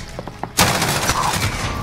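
A Desert Eagle pistol fires in Call of Duty: Modern Warfare, one sharp, loud shot partway through that cracks into a sustained burst of gunfire and rumble. Faint game noises come before it.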